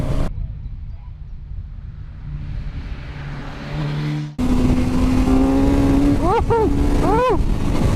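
Suzuki motorcycle engine revving on a country road ride, a steady droning run, then rising and falling throttle blips toward the end, loud and close amid wind noise.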